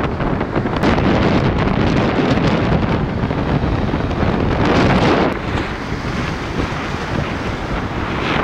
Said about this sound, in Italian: c'è un vento bestiale bellissimo